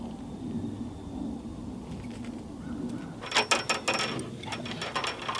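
A wrench tightens a number 8 to number 6 wire connection in solar array wiring, giving a burst of quick ratcheting clicks, close and fairly clear over faint background noise.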